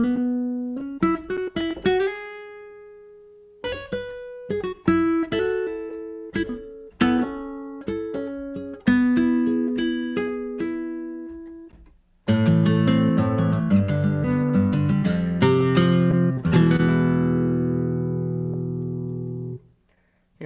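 Guitar samples played from a MIDI keyboard: plucked single notes and short phrases with gaps, then a louder strummed chordal passage with ringing sustain, velocity changing the emphasis on notes, no talking.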